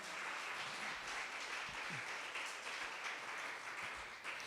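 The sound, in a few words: congregation clapping hands in church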